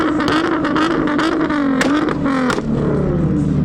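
A 700-brake-horsepower Nissan R35 GTR revs hard in a rev battle, its engine note rising and falling in quick, loud blips that hold close and strong throughout.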